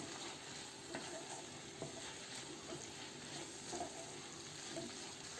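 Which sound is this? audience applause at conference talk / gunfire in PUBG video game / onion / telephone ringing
onion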